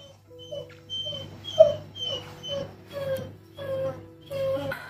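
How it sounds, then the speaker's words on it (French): A dog whimpers and whines in a run of high, thin, wavering cries repeated every second or so, fairly close and steady over a low household hum, with no talk. "j'ai mis le chien dehors"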